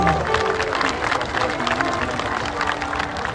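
An audience at a stage show during a fair claps steadily, a dense continuous patter of many hands, with crowd murmur and a voice speaking over it.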